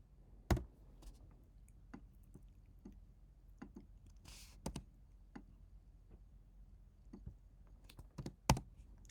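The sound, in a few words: computer keyboard typing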